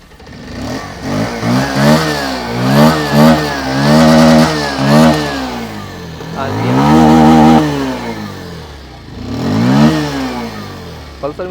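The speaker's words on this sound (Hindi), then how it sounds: "अब मैं थ्रॉटल देता हूँ और एग्जॉस्ट नोट भी सुनिए।" A Bajaj Pulsar 150 motorcycle is revved hard several times close by, each throttle blip rising to a loud rasping exhaust note and falling back, in about three distinct bursts.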